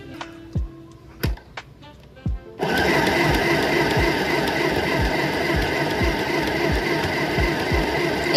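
A mini sewing machine stitching starts after a few sparse knocks and clicks, then runs as a loud, steady mechanical whir with a fast, even needle rhythm until the end, with no voices.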